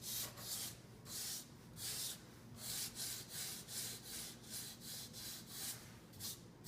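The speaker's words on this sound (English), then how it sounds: "We sanded down the spackle, so it's smooth now" Dried spackle being sanded down on a Hylian Shield prop from Legend of Zelda, a steady rhythm of close, raspy back-and-forth scrubbing strokes with no talking.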